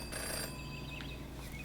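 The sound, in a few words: telephone ringing in the video game Jenny LeClue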